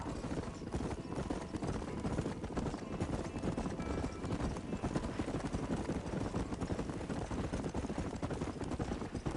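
Horses clip-clop steadily at a riding pace through a Red Dead Redemption game scene, the hoofbeats faint and continuous under a dense bed of ambient game sound.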